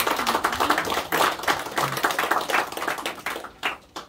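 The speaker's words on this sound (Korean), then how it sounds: "우리 하나님께 영광의 박수를 드리겠습니다." A small church congregation claps together for a few seconds during a Sunday morning service, a lively patter of applause that thins out toward the end.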